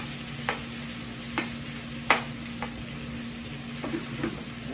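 Steak searing in a hot pan, an even hiss of frying fat with a low steady hum and several sparse clicks and spatula taps, one sharper knock near the middle, close and unaccompanied by speech.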